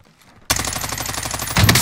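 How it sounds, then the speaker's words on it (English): Rapid gunfire in a first-person shooter video game: a dense, loud burst of shots starting abruptly after near silence and continuing steadily, with a heavier boom near the end. "Wait, the guy on top is shooting."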